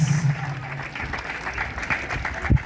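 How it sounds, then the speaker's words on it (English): Applause from an audience at a school event launching an inter-school reading quiz, a short burst of clapping mixed with voices and a low hum, fairly close and moderately loud. "A round of applause for her."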